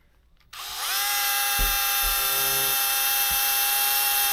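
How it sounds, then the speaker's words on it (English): A two-speed Bosch cordless power drill spins up after a moment of quiet and keeps running with a loud, steady high-pitched whine, a few light knocks underneath. "that's the Bosch drill."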